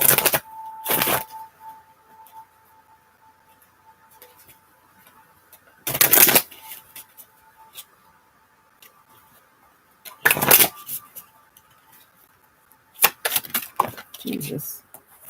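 A deck of tarot cards is riffled and shuffled in several short, crisp bursts separated by quiet gaps, close by, with a faint steady hum underneath.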